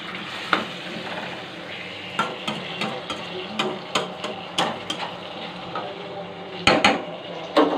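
Mutton is stirred and sautéed in a cooking pot, a spoon knocking and scraping against metal in irregular clanks over a soft, steady sizzle, heard close.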